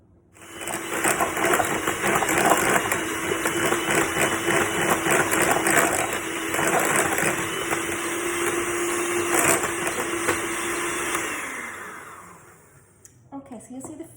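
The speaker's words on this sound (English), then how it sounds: "So, electric whisk, add your beaters, and we're going to whisk it for about 7 to 8 minutes." Electric hand whisk with beaters whirring steadily through eggs for a Swiss roll sponge, a loud continuous motor whine with rattling against the bowl before it winds down near the end.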